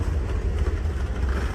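A freight train rolls past nearby, a steady low rumble with faint rhythmic clatter of wagons over the rails, no voices.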